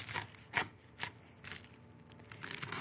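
Knife sawing through a chicken club sandwich, with soft, crisp crunches from the toasted bread repeating about every half second, faint and close.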